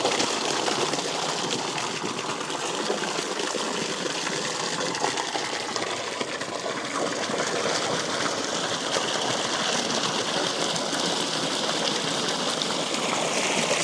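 A 12 volt bilge pump on a gold dredging rig pushes water at about 5 psi through a 17 mm nozzle, making a steady loud rushing gush with a faint motor hum underneath. No one talks.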